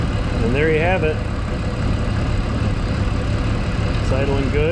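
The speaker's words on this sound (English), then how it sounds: "It's idling good." A 1984 Pontiac Fiero engine idles steadily after its O-rings were replaced to fix a lean running fault, a constant close rumble with brief talking near the start and again toward the end.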